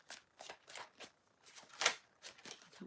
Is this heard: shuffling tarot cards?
yes